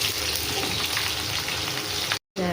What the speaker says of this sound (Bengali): তেল দেখো গরম হয়ে গেছে, শুকনো লঙ্কা আর রসুন আর আমি দিয়ে দেবো এতে পেঁয়াজ কুচি